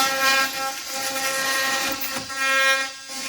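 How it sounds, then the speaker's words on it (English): An oscillating multi-tool saws through the wooden door jamb of a vintage trailer, giving a loud, continuous high-pitched buzzing whine that holds for about three seconds, close up, with no talking. "So I will use my multi-tool. We'll cut this,"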